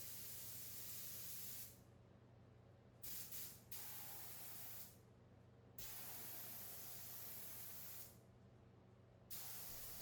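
Spray gun laying a coat of vinyl sealer onto a chest of drawers being refinished, a steady close hiss in three long bursts with brief pauses between passes, no talking.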